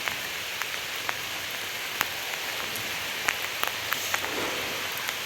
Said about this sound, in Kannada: ಮಳೆ ಜೋರಾಯಿತು